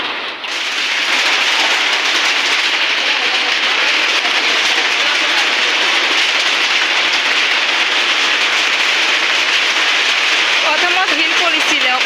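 Heavy rain in a storm just after hail makes a loud, steady broadband roar throughout, and a voice briefly joins near the end.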